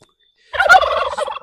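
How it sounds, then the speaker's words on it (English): Bronze turkeys on a farm let out a loud, close gobble that erupts suddenly after a moment of silence and rattles on for about a second. "These are my bronze turkeys."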